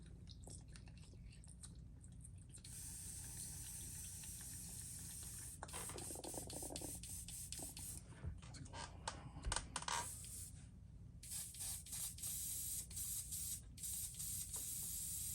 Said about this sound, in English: We're going to clean the gun out here real quick.